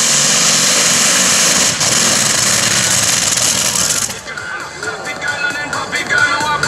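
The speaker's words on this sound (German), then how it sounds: "Jetzt wird der Hebel umgelegt und Serge gibt unverzüglich Gas" A 2.5-tonne free-class tractor-pulling truck roars at full throttle at a pulling event in Krumbach, a loud sustained howl that drops off abruptly into a rougher, sputtering engine note, with a commentator talking over it.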